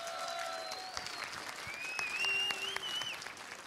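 Crowd applause at an ESL One Katowice 2015 Counter-Strike esports semifinal, a steady roar of clapping and cheering from a large arena audience, with faint whistles rising over the sustained noise.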